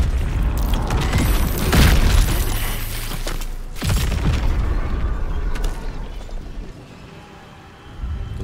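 Combat in Baldur's Gate 3 with loud booming impacts and crashing bursts, a heavy blast near the middle, then rumbling mechanical clatter fading to quieter creaks before a final thump.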